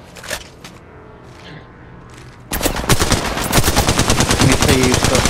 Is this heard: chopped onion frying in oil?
no